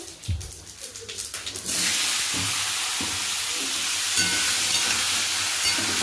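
Cumin seeds and potatoes dropped into hot, darkened oil: a few light taps and faint crackle, then a sudden loud, steady sizzle that roars on close up, with faint background sounds beneath.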